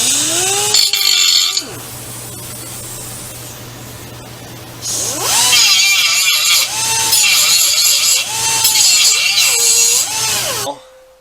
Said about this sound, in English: So all I got to do is grind the spot welds off the heads